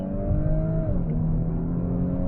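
An Audi B9 S4 with an Integrated Engineering stage 1 tune launches with traction and stability control off, its engine droning loud and steady as the wheels spin, the pitch holding and then dipping slightly.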